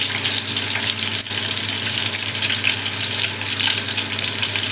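Onions frying in hot oil for chicken dum biryani, a loud, steady, close sizzle that holds throughout without pause and with no voices.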